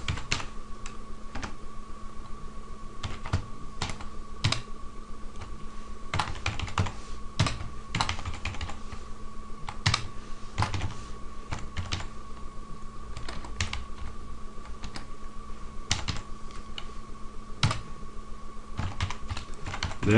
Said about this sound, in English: I want to type in the URL, the address for my py or Python program I have just typed in.